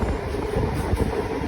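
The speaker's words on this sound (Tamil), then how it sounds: "நம்மளுடைய ரயிலானது அடுத்த நிலையத்தை நோக்கி பயணிக்க ஆரம்பிச்சிருச்சுங்க" A Chennai MRTS train pulls away from Mandaveli station with a steady low rumble and rolling wheel noise, close and continuous with no voices.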